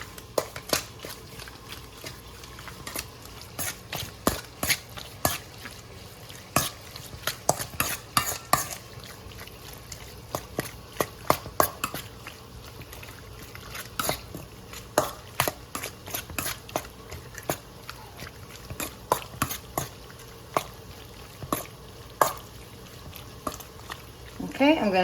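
Sofrito being stirred into chicken in a pot for homemade chicken soup, repeated spoon scrapes and knocks against the pot over a faint wet sizzle, close and steady.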